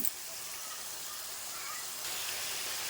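Turmeric and spices fry in oil in a pan while being stirred, giving a steady, close hiss of sizzling that thickens and gets slightly louder toward the end.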